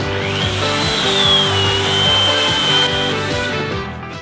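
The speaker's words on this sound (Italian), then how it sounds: "Vado con 2 kW di motosega." A 2 kW electric chainsaw powered by portable solar panels whines loudly at a steady pitch while cutting through wood, a continuous buzzing drone with slight shifts in tone and no voices.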